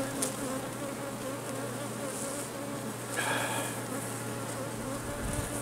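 Honeybees buzz around an open hive during a colony inspection, a dense continuous drone close to the microphone, with a few individual bees flying by louder and closer.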